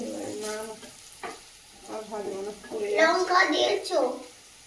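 Food frying in a pan in a home kitchen, a soft crackle rising to a louder hiss near the end while voices talk over it throughout.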